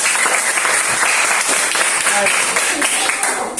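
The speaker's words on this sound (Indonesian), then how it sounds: "Berikan aplaus untuk kelompok." A student group in a classroom receives a burst of applause from the class, with a dense wash of clapping that holds steady at close range throughout.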